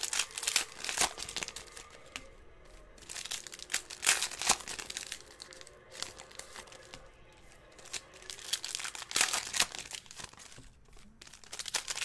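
Card packs of 2018 Panini Contenders football being torn open, with repeated crinkling and ripping of foil wrappers in close, busy bursts that rise and fall across the whole stretch, no talking.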